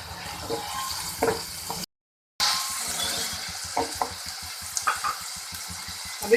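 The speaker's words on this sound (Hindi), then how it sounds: "2 टेबलस्पून मैंने ऑयल डाला है। इसमें अब मैं प्याज डालूंगी।" Chopped onions frying in two tablespoons of oil for a no-oven chicken bread filling. There is a steady close sizzle with scattered stirring clicks and a brief silent gap partway through.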